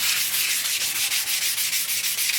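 Hand sanding on a Ridgid 4512 table saw's surface makes a steady, close scratchy rasp in quick back-and-forth strokes, with no voices.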